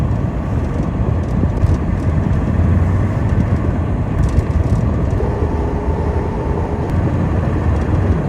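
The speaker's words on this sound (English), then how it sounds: "Here comes the lorry to come and pick them up." A cattle lorry rolls in on a farm to collect animals, its low engine rumble steady and fairly loud, droning on without a break and with no talk.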